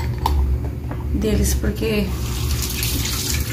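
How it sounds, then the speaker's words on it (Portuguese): Water trickling and pouring into a small bowl for cleaning up after kittens, a steady running sound under a person talking close by. "Aí eu coloco um pouquinho de água aqui na vasilhinha"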